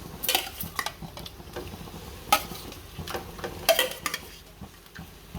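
Chicken pieces are stirred into a masala in a pan for a dhaba-style chicken curry, with a soft sizzle and several sharp spoon scrapes against the metal at irregular intervals.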